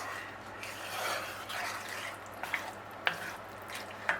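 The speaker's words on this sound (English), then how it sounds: "Give it a good mix in." Sweet and sour pork being stirred in a pan, a soft continuous scraping and sizzling with a few sharp clinks of the utensil against the pan near the end, fairly quiet and close.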